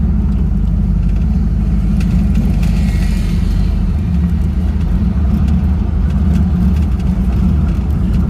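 Car engine idling at about 1,100 RPM, a steady, loud low rumble heard close up with an even drone throughout and no talking.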